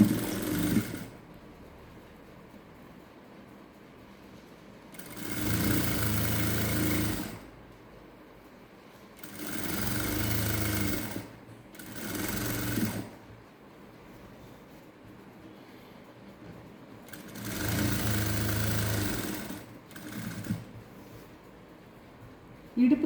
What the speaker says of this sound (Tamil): அப்படியே ஸ்டிச் பண்ணி கொண்டு போகலாம்.